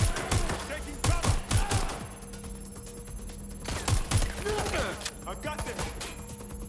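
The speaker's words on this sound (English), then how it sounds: "Shots fired." Gunfire in Watch Dogs: Legion: clusters of sharp shots in bursts, some close and loud, others fainter, with a voice shouting briefly between volleys.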